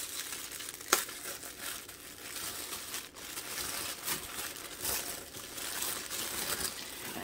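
White tissue paper crinkles and rustles as it is unwrapped from around a wax melt, close and soft, with one sharp crackle early and steady crumpling after.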